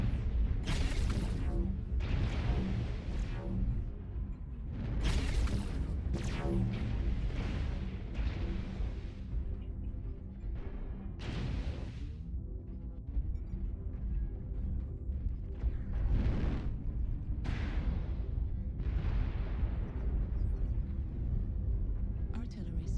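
Video game artillery strike with repeated heavy explosions and booming bursts, spaced irregularly across a long stretch, loud and rumbling, with voices talking over parts of it.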